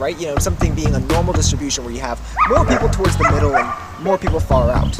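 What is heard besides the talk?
dogs barking at a dog park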